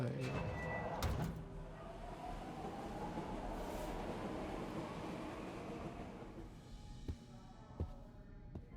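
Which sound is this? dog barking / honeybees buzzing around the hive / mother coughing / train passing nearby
train passing nearby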